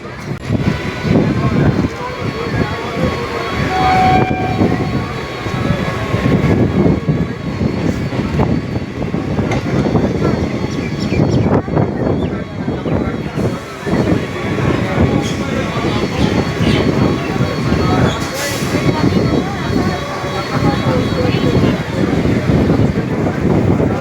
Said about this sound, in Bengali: কালীনারায়ণপুর স্টেশন ছেড়ে দিল আমাদের কৃষ্ণনগর সিটি লোকাল